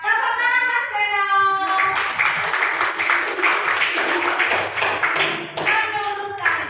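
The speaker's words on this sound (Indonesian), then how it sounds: "Ini tepuk tangan Mas Reno." A speaker's voice gives way to a burst of group clapping from a classroom of participants at an academic supervision workshop, dense and sustained for several seconds before talk resumes over the tail.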